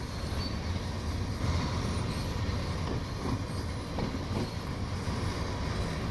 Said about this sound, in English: And the sounds from that train are spectacularly good.